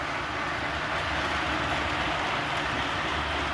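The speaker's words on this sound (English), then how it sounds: "There's the whole train. And that's maximum speed." A Lionel LionChief O scale model train from a Back to the Future 3 set runs at maximum speed, giving a steady, continuous rolling whir and rumble close by with no breaks and no talk.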